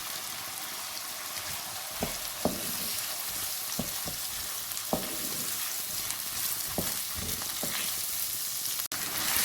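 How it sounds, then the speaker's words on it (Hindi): Chopped onions fry in a pan for aloo gobhi, giving a steady close sizzle throughout with a few soft stirring clicks and scrapes and no talking. "अब इसमें मैं प्याज शामिल कर दूँगी जो मैंने काटे हैं।"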